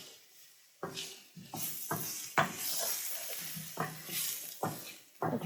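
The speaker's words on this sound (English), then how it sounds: "We're going to cook our onion till it's translucent." Onion fries in a pan with a soft, continuous sizzle, broken by several scraping stirs of a utensil, close and fairly quiet.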